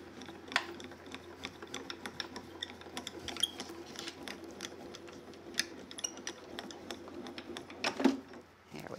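A Grand Calibur die-cutting and embossing machine is cranked with a tan mat and pink embossing plate, giving a quiet, steady series of close ratcheting clicks and soft mechanical knocks throughout.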